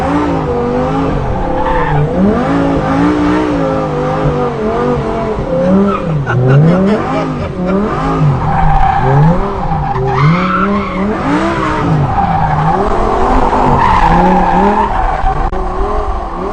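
A Lamborghini LP580-2 drifting under handbrake, tires squealing and skidding in long wavering howls while the engine revs rise and fall, loud and close throughout with no voices.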